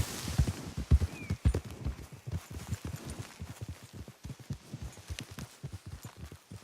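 Horse hooves clip-clop steadily on the ground in the Red Dead Redemption 2 video game, a brisk rhythmic walking gait, close and moderately loud throughout, with no talk.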